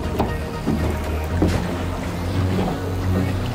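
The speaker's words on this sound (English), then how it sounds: "Everyone, I'm driving the boat." A boat engine drones steadily with low rumbling and water splashing around it, continuous and fairly loud throughout.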